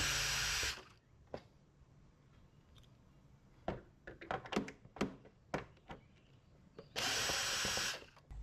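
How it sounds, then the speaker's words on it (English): A power screwdriver whirs loudly at the start and end while screws are removed from a 12V AC unit, with a series of sharp clicks, taps and thunks of parts and screws being handled in between. "While I'm taking these screws out"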